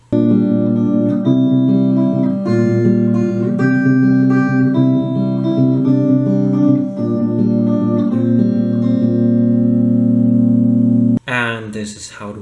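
Electric guitar plays the final section of a song as a loud, sustained run of repeated riffs and chords, breaking off abruptly near the end into a brief burst of a different sound.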